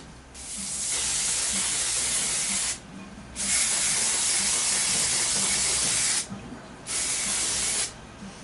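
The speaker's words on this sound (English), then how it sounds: "so some spray adhesive." Three long hissing bursts of spray adhesive from an aerosol can while upholstering a sofa, each lasting a couple of seconds, separated by short pauses, loud and close.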